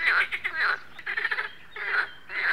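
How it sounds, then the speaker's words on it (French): Green frogs croak in repeated rhythmic bursts, loud and close, calling to females, with short pauses between calls and no voices; Mediterranean setting. "J'écoute le coassement de ces grenouilles vertes qui appellent les femelles."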